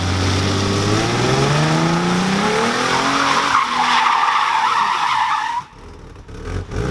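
A Nissan S14 with an RB26/30 engine revs hard as its tires skid and squeal through a donut, a loud sustained screech with rising engine tones, then the engine abruptly cuts out and goes quiet.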